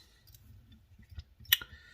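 Scissors snip tying thread at a fly-tying vise, a few faint clicks with one sharper cut near the end, close and quiet.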